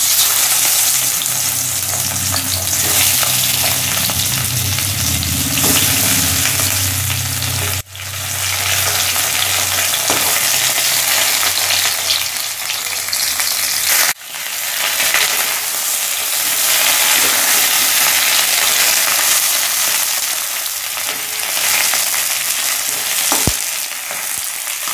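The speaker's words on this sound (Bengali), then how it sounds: "এবার মাছের মাথাগুলো ভেজে নেব।" Fish heads fry in hot oil in a wok, a loud, dense, continuous sizzle crackling steadily up close, briefly dipping twice as they are turned or stirred, with no voices.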